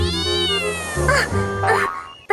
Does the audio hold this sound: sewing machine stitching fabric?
no